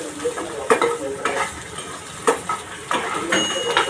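Chopped okra fries in hot oil in a wok, sizzling steadily while a utensil stirs and scrapes it in several sharp, irregular clatters close by.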